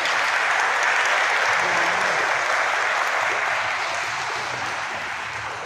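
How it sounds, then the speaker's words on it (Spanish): A congregation gives loud, sustained applause at a golden wedding anniversary ceremony, a dense continuous roar of clapping that fills the whole stretch and eases off slightly toward the end. "Demos un fuerte aplauso nuevamente."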